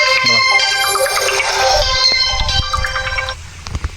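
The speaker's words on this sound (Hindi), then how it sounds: "तभी काम करते समय एक फोन कॉल आता है" An electronic ringtone on a mobile phone sounds for an incoming call while someone is working in a village farm field, a melodic tone pattern playing for about three seconds before it cuts off and leaves faint outdoor noise.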